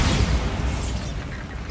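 A Bombarda blast spell from Hogwarts Legacy sets off a loud booming burst that fills the first second, then trails into a rumbling, fading decay.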